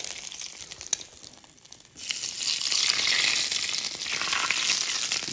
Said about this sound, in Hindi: देसी घी का तड़का, क्या बात है